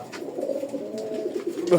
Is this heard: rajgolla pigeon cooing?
yes